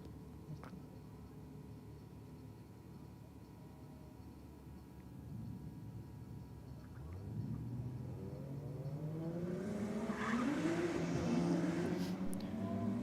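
A Ford XR6 Turbo and a Mitsubishi Lancer launch off a drag racing start line, their engines building from a low idle into a loud, rising rev that climbs in pitch and grows nearer over the final seconds.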